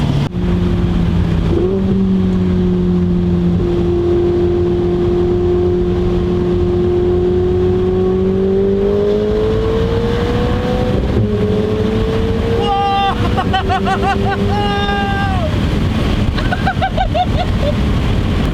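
A twin-turbocharged Ferrari 488 accelerating hard, loud sustained engine roar rising in pitch through gears with quick shifts, heavy wind buffeting over it, heard from a chasing car.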